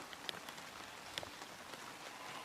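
Rain falls steadily at an outdoor college baseball game, a faint continuous patter of drops on surfaces with occasional sharper taps.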